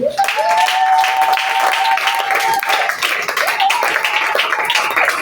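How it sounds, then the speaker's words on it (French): A church congregation applauding, steady and loud clapping from a crowd that goes on throughout, with a sustained tone and a voice sounding over it. "Est-ce qu'on peut acclamer le Seigneur?"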